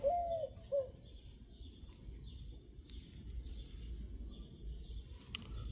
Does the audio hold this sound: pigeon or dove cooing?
yes